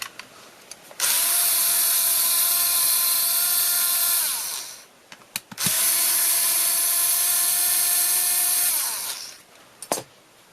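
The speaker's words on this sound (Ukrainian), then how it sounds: "Так, відкручуємо ці гвинти." A power drill or electric screwdriver unscrews screws from a travel iron with a burnt-out heating element, two sustained high whirring runs of several seconds each, close and loud, separated by brief pauses and a small click.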